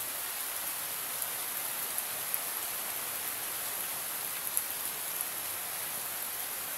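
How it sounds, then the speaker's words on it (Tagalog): Steady, dense rain pours down with a constant hiss, loud and unbroken throughout, with faint drip ticks and no voices. "malakas po kasi ang ulan."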